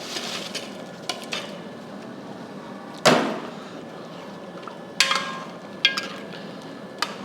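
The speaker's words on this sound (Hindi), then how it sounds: "मैं ये पकोड़े इसके अंदर डाल रहा हूं" Pakoras drop one by one into simmering kadhi in a cooking pot, making several soft splashing plops at irregular intervals over a quiet bubbling background, with no talk.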